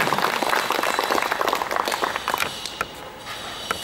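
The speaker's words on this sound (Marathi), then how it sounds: "त्यांच्यासाठी जोरदार टाळ्या" An audience at a laughter club gathering applauds a speaker, a dense patter of many hands clapping that holds steady and then thins out toward the end, with no one talking.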